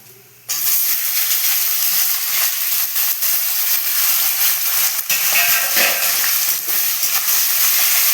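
Onions frying in hot oil in a pan for chickpea ghugni: a loud, dense, continuous sizzle starting suddenly after a quiet moment, with light stirring clicks scattered throughout, close up.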